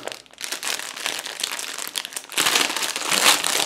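A plastic parcel package from China being torn open, giving a close, steady crinkling and rustling of plastic wrap. It grows louder and brighter toward the end with no speech.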